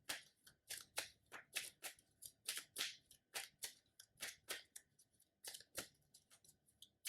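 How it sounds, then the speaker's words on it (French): A deck of cards for the Arkham Horror board game being shuffled by hand, a quick irregular series of close, crisp riffling snaps and rustles, quiet and with no voices. "Je remélange mon deck puisque j'ai recherché dedans."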